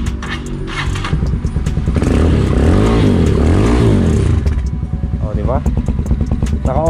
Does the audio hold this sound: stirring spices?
no